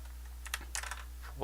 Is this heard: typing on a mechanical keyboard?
yes